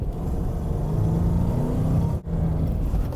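A car engine rumbles steadily at fairly high revs during a heel-toe downshift to first gear, with a sudden brief dip in sound just after the two-second mark, then the engine note resumes.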